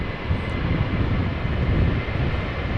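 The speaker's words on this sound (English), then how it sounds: "livery from SLM outbound to Paramaribo" Brief, steady rumble of an SLM Airbus A330-200 departing Amsterdam Schiphol for Paramaribo, a low, fairly faint roar heard alone.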